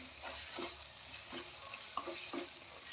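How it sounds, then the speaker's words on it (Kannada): Paneer burji, restaurant style, fries in oil with a soft, faint sizzle. A spoon stirs and scrapes the pan in a rhythm of gentle strokes, with no one speaking. "5 minutes ಇದನ್ನು ಚೆನ್ನಾಗಿ ಎಣ್ಣೆಯಲ್ಲಿ ಫ್ರೈ ಮಾಡ್ಕೊಳ್ಳೋಣ."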